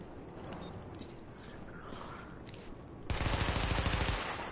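Automatic weapon fire at highlighted targets during a weapon test in the video game The Division, starting as a dense, loud, rapid burst of shots that runs steadily to the end, preceded by softer game ambience.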